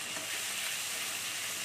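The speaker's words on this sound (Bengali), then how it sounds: "দেখুন আমার আদা রসুন ভাজা হয়ে গেছে।" Ginger garlic paste with chopped green chillies frying in oil in a pan for a potato and eggplant curry, giving a steady, dense, close sizzle throughout with no voices.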